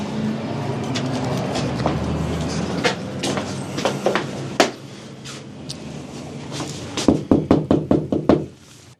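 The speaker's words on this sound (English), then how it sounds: "After several knocks, a woman who did not want to be seen answered the door." Knuckles rap on a spa door in a strip mall, several separate knocks at first, then a quick loud burst of rapid knocks near the end.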